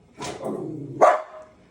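A dog in a kitchen gives two close, short barks about a second apart, the second sharper and louder, with a brief low growl trailing between them.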